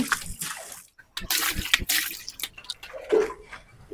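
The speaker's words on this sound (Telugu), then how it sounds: "ఇదిగో ఇప్పుడు పాలు వేసుకుంటున్నా" Fifteen litres of milk poured into a large pot at a street stall making almond milk, landing in uneven splashing bursts with short pauses, moderately loud and close.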